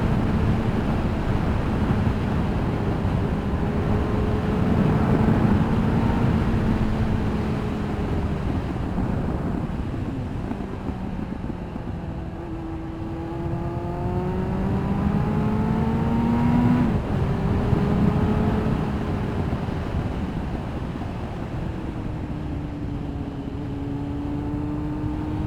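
Kawasaki ZX9R motorcycle engine droning steadily while riding, with pitch sweeping up and down through gear changes under heavy wind rush, loud and continuous throughout.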